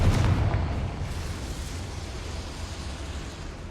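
A Confringo fire spell bursts in Hogwarts Legacy, a deep booming explosion at the start that rolls into a low rumbling decay and fades gradually over several seconds.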